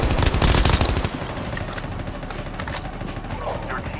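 Rapid shotgun fire in the mobile shooter game Call of Duty Mobile, a dense burst of loud close blasts in the first second, then scattered fainter shots and game noise, with speech mixed in.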